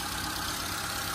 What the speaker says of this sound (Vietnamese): Máy móc anh em có thể nghe tiếng máy nổ này,